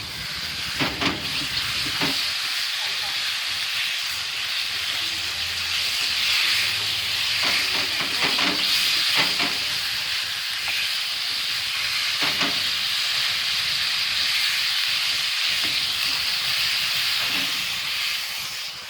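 Sweet black sauce is stirred into a hot pan during a cooking class, giving a loud, steady hissing sizzle with intermittent scraping stir strokes throughout.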